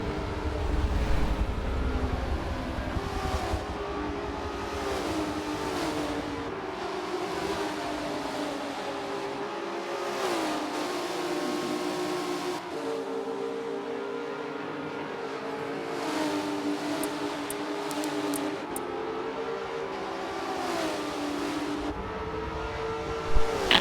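Prototype race cars in a racing video game at Road Atlanta: high-pitched engine whines rise and fall through repeated gear changes and passes, steady and moderately loud, with no voices over them.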